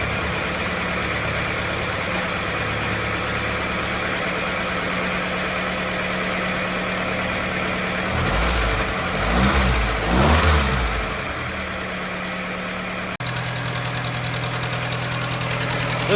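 A freshly rebuilt flatfender Jeep engine runs steadily at idle, with a brief burst of revving in the middle before settling back to a steady, close idle; no radiator or coolant fitted.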